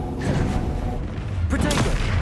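In Hogwarts Legacy, a Depulso spell goes off during combat with a short whooshing burst, then a sharper impact follows, over a rumbling game soundscape.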